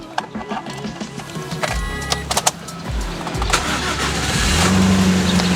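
A 2013 third-generation Toyota Limo sedan engine with 335,000 km cranks with a few clattering bursts, then catches and settles into a steady idle rumble, loud and close.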